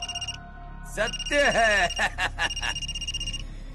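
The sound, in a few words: telephone ringing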